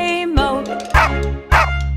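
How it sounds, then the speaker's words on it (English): A dog barks in a children's farm song about a farmer's dog, giving two loud, sharp woofs at a steady rhythm after a brief yip, with musical backing underneath and no singing. "There was a farmer had a dog and Bingo was his name"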